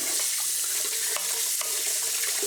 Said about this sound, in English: I'm gonna run water over them 1 more time